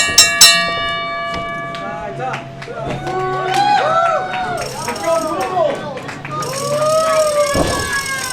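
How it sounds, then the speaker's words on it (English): Several sharp metallic bell strikes open a live pro wrestling match, followed by ringing, rattling and a noisy crowd as the bout begins, with voices over the hubbub. "Ring the bell!"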